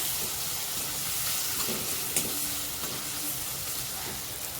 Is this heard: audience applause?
no